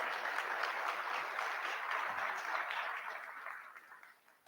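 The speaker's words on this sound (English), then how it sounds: "Give them a big round of applause, please." Conference audience applauding, a broad, steady rush of clapping heard from a distance that holds level for several seconds and then tapers off near the end.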